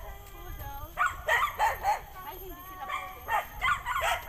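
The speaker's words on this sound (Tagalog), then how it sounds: "May aso, guys." Dogs barking angrily near an old forest swing, a run of sharp barks and yips in bursts, with people talking in between.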